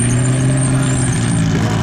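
A Ferrari F40 LM rolls along a runway with a steady low engine drone and rumble, a continuous loud mechanical tone holding through without clear rise or fall, no talk.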